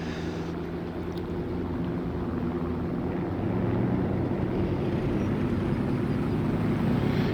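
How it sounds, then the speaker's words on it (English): Aircraft in a WWII combat game with a Panzer 4, T-34 and B-239 Buffalo, a continuous loud engine drone overhead that swells slightly over the stretch, heard without talk. "Using my ears to keep track of the planes above me"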